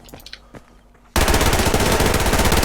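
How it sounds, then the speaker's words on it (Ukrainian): After a second of faint clicking, rapid automatic rifle fire from the shooter game Survarium erupts, continuing loud and unbroken to the end as the weapon keeps firing after the trigger is released. "починаю стріляти, я вже відпустив е, кнопку мишки, але мій автомат продовжує стріляти"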